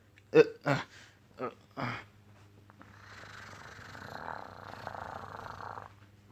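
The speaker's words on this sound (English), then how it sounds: "he's so cute when he purrs" A few short vocal bursts come first, then a soft, rumbling cat purr continues steadily and gently to the end.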